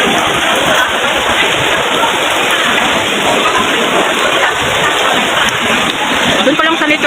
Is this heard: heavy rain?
yes